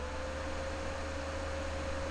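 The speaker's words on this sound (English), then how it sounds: "Oh, and I got this space heater thing." A space heater runs with a steady broadband whoosh of blowing air and a faint constant hum underneath, unchanging throughout with no voice.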